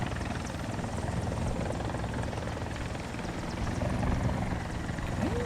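A Mi-24 attack helicopter in War Thunder flies with a constant, dense rotor and turbine roar, steady and loud throughout with no pauses.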